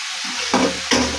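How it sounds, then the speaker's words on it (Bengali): Cumin seeds, dried red chillies and black peppercorns fry in a hot pan, giving a steady close sizzle with two louder stirring scrapes about half a second apart. "এটাকে আমি একটু হালকা করে ভেজে নেব।"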